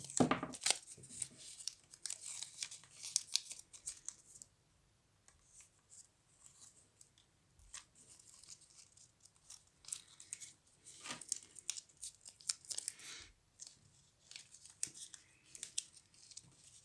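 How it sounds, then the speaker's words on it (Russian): Adhesive tape ripped off its roll in a few quick tearing bursts at the start, then scattered softer crinkles and handling sounds, close and fairly quiet, while crocheting a Christmas angel. "Готовим скотч."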